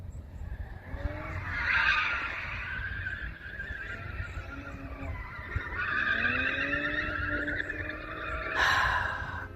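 A car roars past close by with a loud engine and a brief tire squeal, traffic noise rising and falling over about ten seconds.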